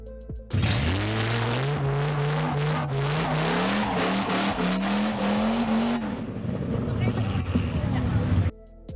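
A loud Dodge Ram pickup's V10 engine revs up and roars close by, its pitch climbing steadily before dropping off, with faint voices in the background.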